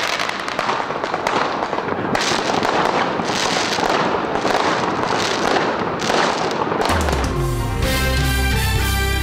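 Fireworks crackle and pop in dense rapid bursts for several seconds, loud and close, before giving way to a music sting.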